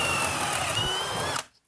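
A cordless drill runs steadily at speed setting 3 on a full battery in a DeWalt versus Milwaukee timed test, a loud continuous whine that cuts off sharply near the end, leaving silence.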